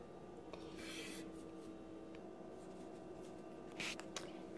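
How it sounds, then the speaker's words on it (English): Brushing sawdust off an old wooden bread box, soft rubbing and sweeping strokes in a few separate bursts, quiet and close over a faint room hum. "I'm going to clean up all the sawdust now and brush this down."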